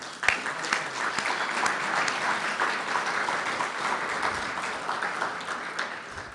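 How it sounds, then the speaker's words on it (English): Dinner guests applaud at an annual dinner in Savannah, a steady, even roll of clapping from a seated crowd that continues evenly at moderate volume throughout. "she does get a round of applause"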